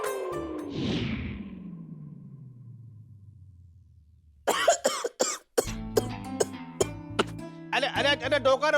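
Loud, harsh coughing from an elderly man in a scene from the Hindi TV comedy Bhabi Ji Ghar Par Hai, several rough bursts close up, with other voices joining later and music over it.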